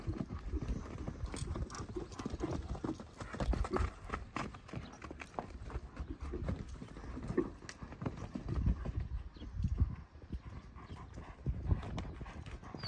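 Steady clip-clop of a purebred Criollo gelding's hooves on ground, a continuous rhythmic trot close by with some background rustle.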